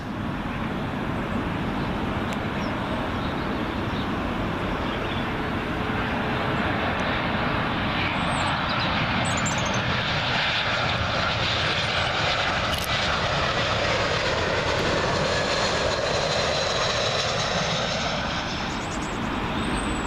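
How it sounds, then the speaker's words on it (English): A British Airways Airbus A320 in from Prague lands on Heathrow's runway 27L, its jet roar loud and near throughout, sweeping past overhead with a sustained, shifting drone. "Next one in, British Airways A320. This one coming in from Prague."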